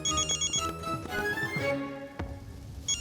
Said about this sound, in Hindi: ये दक्कू भाई क्यों फोन कर रहे हैं?